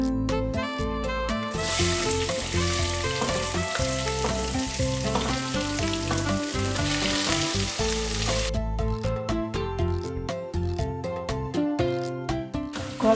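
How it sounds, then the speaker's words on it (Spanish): Basmati rice fries in spiced oil while being stirred, making a broad sizzling hiss that swells through the middle stretch and then fades, with prominent music playing throughout. "Comienzo a remover el arroz para que se vaya impregnando del aceite y de los sabores que ya tiene el aceite de las especias que le adicioné."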